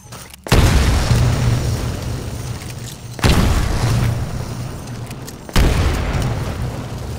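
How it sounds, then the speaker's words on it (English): Three grenade explosions go off in Titanfall, each a loud, deep boom with a sharp onset that decays slowly, spaced about three seconds apart. "Throw a grenade into each of the windows."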